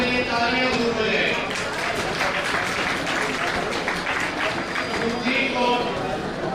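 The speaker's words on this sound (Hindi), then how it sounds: "रितिका, सुखदीप को 30 बच्चों के लिए तालियां जरूर बजाएं।" Audience applause at a Vishwakarma Puja festival event in Ambala, honoring schoolchildren, steady clapping from a crowd throughout with voices mixed in underneath.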